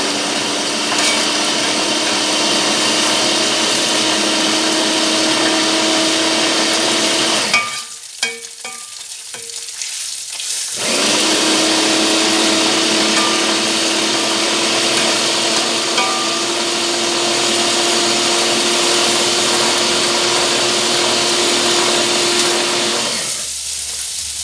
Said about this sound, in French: Je mélange pendant que je continue à mouliner mes oignons poireaux.